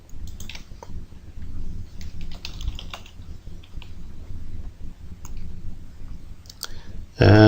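Rapid computer keyboard typing mixed with mouse clicks during a software tutorial on drawing panels, steady and close, with a louder burst of clatter at the end.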